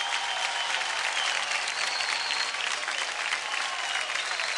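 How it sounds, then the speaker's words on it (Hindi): A studio audience gives loud, dense, continuous applause for singer Ali Sher on a televised singing competition, a steady roar of many hands held at full strength throughout. "जोरदार तालियां हो जाए अली शेर के लिए।"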